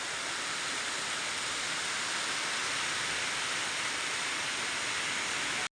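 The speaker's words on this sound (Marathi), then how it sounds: "इकडे खूप जोरात पडतो आहे पाऊस" Steady, dense rushing hiss of heavy rain pouring down in Rajapur without a break, loud and even from start to finish, no voices.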